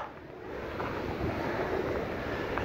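Steady wind roaring across the microphone while windsurfing with a sail on open water, around 15 km/h with gusts; a continuous broadband rush with slight swells, no voices.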